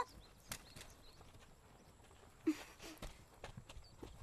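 Hooves of a horse pulling a cart clip-clop in a few irregular, moderately faint strikes against quiet outdoor background noise, with no talk.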